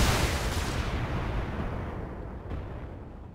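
Short-range missiles fired from a mech in a video game, a loud, dense roaring blast that fills the moment at once and then slowly fades, close and unbroken, with no talk over it.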